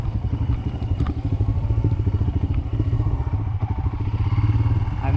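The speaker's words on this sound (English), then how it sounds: "These are the kind of tracks that are made for this motorcycle." A Royal Enfield Himalayan BS4 motorcycle rides a rough mountain road in Sikkim, its steady engine thrum heard up close with the bike clattering and thumping over the uneven surface throughout.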